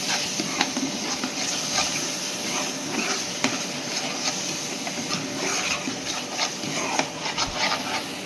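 Onion and tomato puree stir-fried in a pan for a dhaba-style paneer masala gravy: a steady close sizzle with frequent scraping and stirring clinks of a spatula against the pan, no talking.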